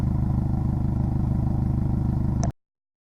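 An engine fitted with a Tomei Expreme Ti titanium exhaust and Ace350 headers idles with a steady, deep, evenly pulsing burble for about two and a half seconds, then cuts off abruptly.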